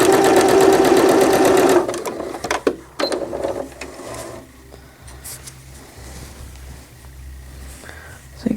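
A sewing machine runs a fast, loud, continuous stitch on knit fabric for nearly two seconds, then stops; scattered clicks, fabric handling and a low background hum follow.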